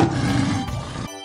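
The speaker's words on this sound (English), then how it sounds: "Lion." A lion's roar from a children's animal cartoon plays as one short, loud, rough growl, cutting off abruptly after about a second.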